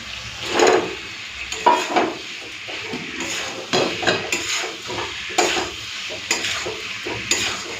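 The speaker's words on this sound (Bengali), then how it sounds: "চলুন এখন ভেজে রাখা ডিম আর আলুটা দিয়ে দেবো" Fried duck eggs and new potatoes get tossed into a spiced masala in a pan, with close, loud, frequent spatula scrapes and clanks against the metal over a steady sizzle and no one talking.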